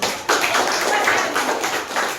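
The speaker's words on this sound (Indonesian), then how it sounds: "Tepuk tangan buat kelompok." A classroom of students clapping for a group, a brief burst of dense hand claps starting abruptly and continuing steadily at close range before fading slightly.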